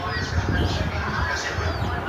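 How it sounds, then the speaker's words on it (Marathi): Faint, high peeps of chicken chicks scattered over a dense, steady background murmur, with no clear pattern to the calls. "बघा किती सारी कोंबडीची पिल्लं आहेत"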